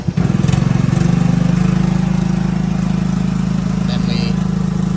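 A truck engine idles loud and close beside a hydraulic gooseneck trailer, then its revs rise into a steady, throbbing drone that holds for several seconds.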